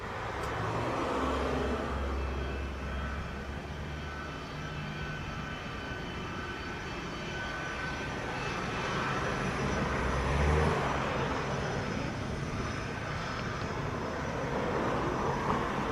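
A Delta airliner takes off from runway 25 at Montego Bay airport in Jamaica, its engines a broad steady roar at moderate distance that swells slightly as it accelerates, with no voices over it.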